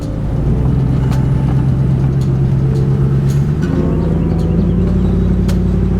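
A Chevrolet Trailblazer SS exhaust rumbles low and steady during a slow drive through a busy street, with a brief rise in engine note partway through and faint clicks above the drone.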